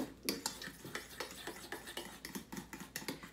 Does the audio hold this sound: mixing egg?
yes